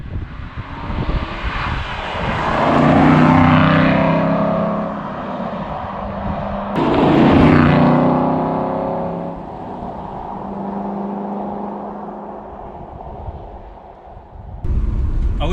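A 2008 Aston Martin V8 Vantage with a manual gearbox drives on a country road, its V8 engine rising and falling loudly through gear changes with strong rumbling revs heard from inside the car.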